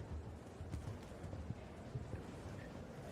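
A show jumping horse's hooves gallop at an indoor Christmas competition, the faint rhythmic thuds of its strides heard at a distance over a quiet arena background.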